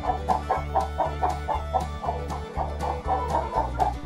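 Farm chickens clucking steadily in a rhythmic series of short calls, close and fairly loud, with a low repeating background pulse underneath.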